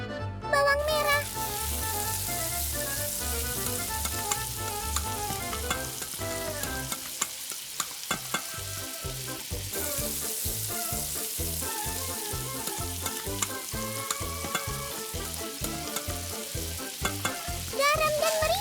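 Shallots frying in cooking oil for a crispy chili fish dish, a steady dense sizzle with stirring scrapes and clinks running throughout, briefly dipping midway before resuming loud and close.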